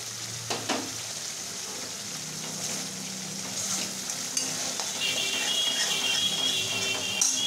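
Masala, a spice paste for paneer, sizzles and fries steadily in a pan as it is stirred, with occasional scraping clicks from the utensil; a continuous close hiss that grows slightly louder toward the end, with no talking.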